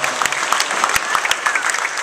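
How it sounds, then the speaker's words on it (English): A crowd applauds steadily, dense clapping filling the whole stretch at an even, fairly loud level with a few sharper claps standing out. "she needs a big round of applause as well."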